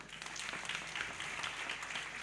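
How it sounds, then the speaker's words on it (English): Audience clapping at the closing ceremony of a national agroecology symposium, a faint, even wash of applause from a distant hall that holds steady throughout. "I think she deserves a better clap."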